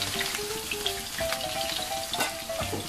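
Marinated pork sizzling in a pan for adobo, a steady close crackle of frying oil with occasional sharper pops and a light scrape of stirring, no talk.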